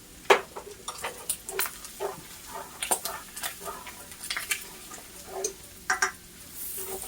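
Flour hits sausage frying in a pan to start a roux. The stirring and scraping come as soft, uneven clicks and scuffs over a faint sizzle, close by and fairly quiet.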